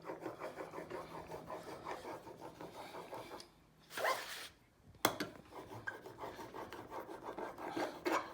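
An old Union chisel is sharpened on a wet stone, a steady back-and-forth rasping scrape that pauses briefly midway before resuming, close and fairly quiet.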